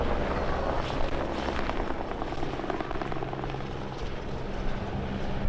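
A helicopter flies overhead near a remote gas station in eastern Canada, its steady rotor drone loud and continuous throughout, with no talking.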